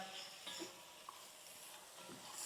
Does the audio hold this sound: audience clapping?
no